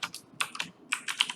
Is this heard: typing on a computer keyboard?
yes